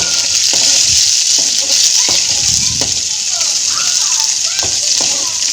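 Slit green chillies sauté in oil for a tiffin sambar, making a loud, hissing sizzle throughout, with intermittent stirring knocks and faint voices in the background.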